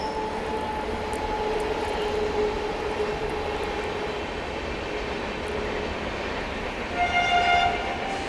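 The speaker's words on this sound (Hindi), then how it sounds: "बहुत स्पीड में देखिए पटना तेजस राजधानी जाती हुई।" The Patna Tejas Rajdhani express rushes past at speed with a continuous loud roar of wheels and rail noise. A horn tone sounds along with it and swells near the end, with no voices.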